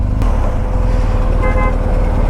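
Loud, continuous road traffic with cars and motorbikes rumbling past close by, a brief horn-like tone partway through, heard near a bike service centre beside a BMW R 1250 GSA.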